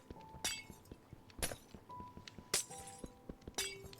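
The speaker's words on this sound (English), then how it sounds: "I love the sound of breaking glass in this game" Glass breaking in a video game, several sharp crisp shatters spaced about a second apart, each with a tinkling clink of falling shards, set against quiet game background tones.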